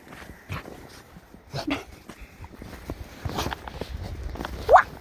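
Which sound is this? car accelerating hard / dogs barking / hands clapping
dogs barking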